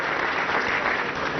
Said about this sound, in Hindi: जोरदार तालियां बजा दीजिए इनके लिए भी